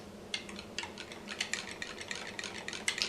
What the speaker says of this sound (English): Using a whisk, mix all the ingredients until well blended.